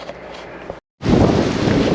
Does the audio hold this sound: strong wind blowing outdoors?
yes